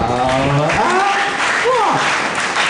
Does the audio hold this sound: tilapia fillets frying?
no